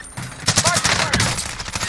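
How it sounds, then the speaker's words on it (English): Rapid bursts of automatic gunfire crackle in a Warzone match with MP5 and AMAX loadouts, dense and punchy for about two seconds, with a player's voice talking over part of it. "Taking direct fire."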